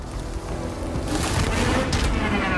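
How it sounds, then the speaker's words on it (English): Surface-to-air missiles stream in during a battle in the Iron Man VR video game, a dense continuous roar of rushing blasts and rumbling booms with crackling bursts layered on top, loud and unbroken throughout. "Incoming surface-to-air missiles!"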